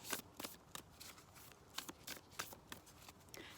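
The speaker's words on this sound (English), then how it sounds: "Another Goddess Power card pull from Colette Baron Reed's Goddess Power Oracle deck." Close, quiet riffling and slapping of Goddess Power Oracle cards being shuffled, in several quick bursts separated by short pauses.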